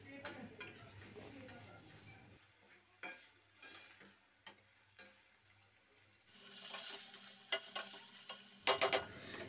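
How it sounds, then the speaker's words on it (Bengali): Prawns fry with onions in a pan, giving a soft, quiet sizzle broken by spatula scrapes and utensil clinks, with brisker stirring and clatter toward the end. "চিংড়ি মাছটাও আমি পেঁয়াজের সাথে আরও কিছুক্ষণ ভেজে নিব।"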